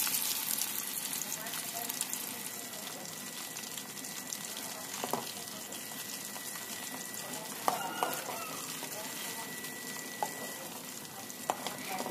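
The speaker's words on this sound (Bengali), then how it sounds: "এবার কড়াইতে তেল দিয়ে এর মধ্যে মাছগুলোকে খুব ভালো মতো ভেজে নিতে হবে।" Koi fish fry in oil in a wok, producing a steady, faint hissing sizzle throughout with occasional small pops and stirring clatters, close by.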